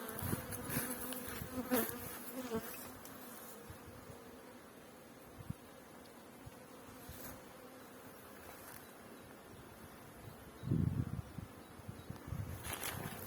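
A dense swarm of bees hums steadily and close around an open hive, with a low thump near the end.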